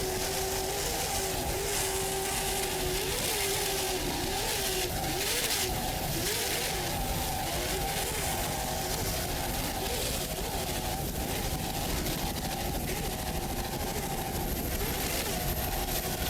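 Super Cat class offshore racing powerboat engines throttling at the 2001 APBA World Championships in Key West, a steady loud roar with pitch swings as the throttle changes, continuous over the whole stretch with commentary running over it.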